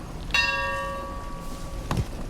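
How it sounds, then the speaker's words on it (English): A door bell rings out with a clear, sustained metallic tone that slowly decays, then is struck again about one and a half seconds later. "the door is kept locked, and you have to ring the bell if you want me to let you in"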